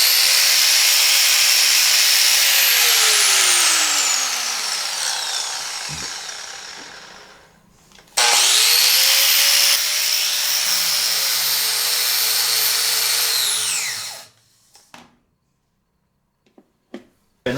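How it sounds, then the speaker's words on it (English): A 7 amp angle grinder powered by a Pecron E600 LFP power station runs twice: a loud, close whine that winds down into silence, restarts sharply, spins steadily, then winds down again to a few faint clicks. "This is a 7 amp angle grinder."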